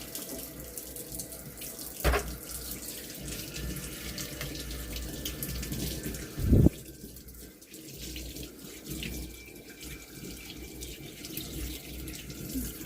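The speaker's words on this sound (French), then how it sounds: "C'est rapide, hein, c'est juste un rinçage." Aquarium parts from a 50-liter tank are rinsed under a running faucet, a steady close hiss of water into a sink with a couple of sharp clatters and a brief lull midway.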